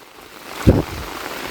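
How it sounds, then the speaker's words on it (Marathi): Rain patters steadily on a surface, broken by a single dull thump partway through. "खाली पाऊस आलाय"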